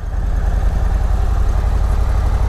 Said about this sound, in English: the 117 engine there. And we're stock right now, no exhaust.